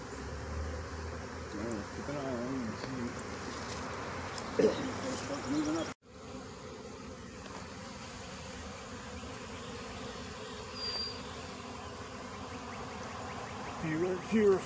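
Honey bees of a swarm buzzing and fanning their wings, a constant close hum with individual bees passing near, while people talk quietly over it.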